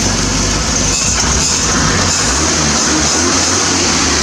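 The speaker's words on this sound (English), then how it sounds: "Just give that a little bit of a rev." Up close, a 1980 Triumph TR7 engine runs with a steady, rough mechanical roar as it is given a light rev, loud and continuous with no voices.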